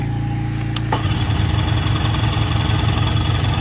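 A small engine started with key and choke cranks briefly, then catches and settles into a loud, close, rhythmic idle with steady low pulsing.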